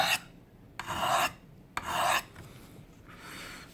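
A knife blade drawn across a sharpener in three distinct raspy strokes, each about half a second long, close and moderately loud, followed by a fainter scraping pass.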